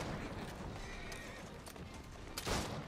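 A horse whinnies and clip-clops in Assassin's Creed Syndicate, with hoofbeats and street noise in the background and a loud neigh bursting out near the end, no speech.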